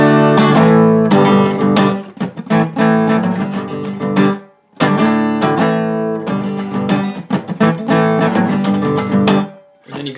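Electric guitar playing a song's riff, clear picked notes in repeated phrases with short pauses between them, close and alone.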